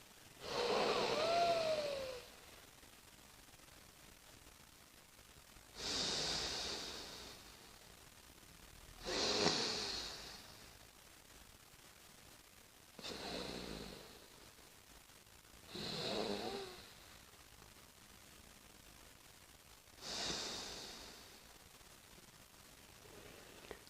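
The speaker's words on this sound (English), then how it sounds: "Open one nostril, breathe in, close that nostril, open the opposite nostril, breathe out." Alternate nostril breathing runs as slow, soft nasal inhales and exhales through one nostril at a time, six airy breaths with quiet pauses between them, close and faint.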